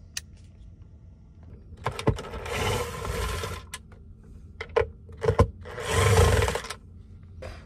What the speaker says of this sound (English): There's two screws in here, so I'm going to have to get my trusty drill